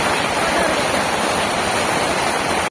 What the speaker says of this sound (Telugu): వర్షం పుల్ల పడుతుంది